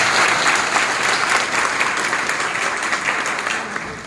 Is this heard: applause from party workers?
yes